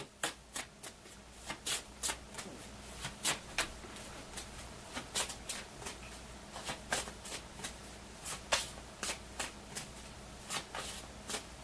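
Cards being shuffled by hand for the Veilwraith card game, heard as a close, quiet series of sharp riffling bursts that repeat at an uneven, steady pace with no voices.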